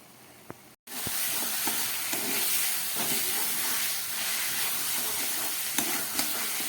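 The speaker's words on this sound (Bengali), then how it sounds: "একদম গ্যাসটাকে কম করে মাংসটাকে ভালো করে কষিয়ে নিচ্ছে" Mutton sautéed in a pan over low heat makes a steady broad sizzling hiss after a brief quiet start, with occasional soft stirring clicks.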